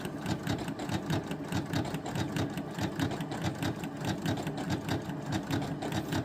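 A sewing machine runs a zigzag stitch across a shirt, a continuous fast rhythmic whirring and clatter heard close up and alone, with no talking.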